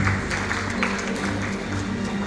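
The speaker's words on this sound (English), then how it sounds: "big round of applause." Audience applause at an IT summit awards ceremony, a steady wash of clapping from a crowd filling the hall, with faint voices and a low hum beneath it.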